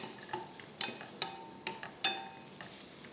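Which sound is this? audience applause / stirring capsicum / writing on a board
stirring capsicum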